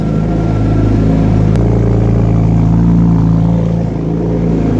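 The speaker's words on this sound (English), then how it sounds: "New engine, titanium exhaust. Let's show you the exhaust." A race-prepped BMW M3 race car with a new engine and titanium exhaust runs loud and close, a steady deep engine drone with slight rises in revs.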